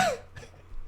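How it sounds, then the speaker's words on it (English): A single short cough from a person with a frog in the throat, close and clear, followed by low room hum. "That was a cough."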